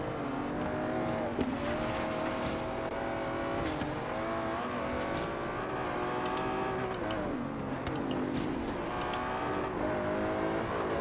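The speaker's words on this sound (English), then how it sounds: "Oh, that Bentley sounds great." Bentley engine revving and racing in Forza Horizon 3, a loud sustained engine drone whose pitch repeatedly climbs and drops through gear changes, with occasional tire noise and no talk.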